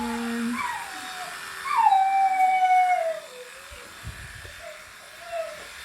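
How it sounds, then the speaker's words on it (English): A dog outside howls in long, drawn-out, wavering cries, wanting to come in, followed by softer whimpering, heard at moderate distance over a quiet indoor room. "think one of our dogs wants to come in."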